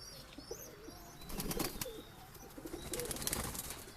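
High-flying pigeons kept for breeding, including Sahāranpuri birds, coo softly amid rustling and a few wing flaps, a low steady murmur with busier stretches midway and near the end.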